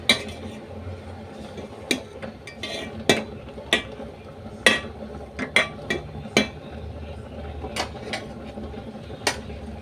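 A utensil scrapes and clinks against a pan while pulicha keerai greens are stirred and turned, with sharp irregular metallic taps over a soft background hiss.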